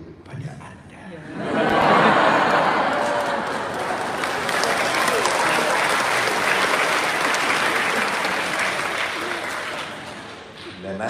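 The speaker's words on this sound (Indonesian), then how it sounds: "Dan Anda jangan tepuk tangan dulu." A seminar audience in Singapore breaks into loud, sustained applause at a comedic talk, the clapping swelling quickly and holding steady as a dense crowd roar with a few scattered chuckles.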